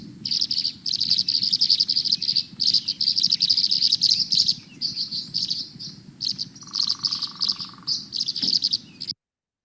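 A spring migrant bird in Kentucky gives a steady stream of liquid, watery chirps and calls, fairly close and continuous over a soft background hum of insects.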